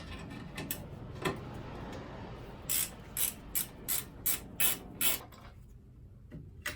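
A ratchet wrench undoes the bolts on a vehicle's slam panel, about eight quick, evenly spaced clicks close by over a low mechanical hum, followed by a pause and one more faint click.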